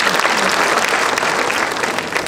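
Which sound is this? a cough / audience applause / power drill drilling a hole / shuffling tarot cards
audience applause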